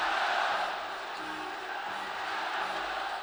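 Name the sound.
basketball arena crowd cheering behind China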